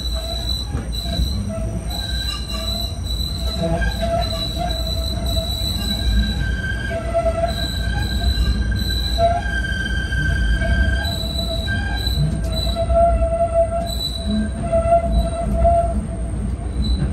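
A PATH PA-5 rapid-transit train runs from Newark-Penn Station toward the World Trade Center, its wheels squealing in sustained high metallic tones over a steady loud rumble of rolling on the rails.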